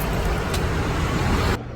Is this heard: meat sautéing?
no